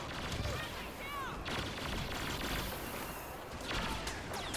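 Blaster gunfire in a Star Wars Battlefront Walker Assault battle on Tatooine, rapid shots and booms over a dense, constant combat din, loud and busy throughout.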